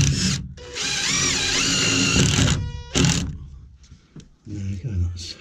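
A power drill drives a screw through a wood batten into steel inside a narrowboat fit-out. Its high, loud whine runs for about two seconds, then several shorter bursts follow with softer pauses between them.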